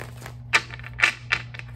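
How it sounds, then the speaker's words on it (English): A few quick papery riffles and soft slaps of tarot cards being shuffled, close by, in short bursts with brief pauses between. "One more shuffle, Aquarius."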